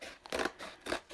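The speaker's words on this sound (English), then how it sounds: "So I'm going to cut this out with my scissors that I don't use for fabric." Scissors cutting out a paper pattern template for a batik boho throw, heard as a few crisp, close snips in an uneven rhythm with short pauses between strokes.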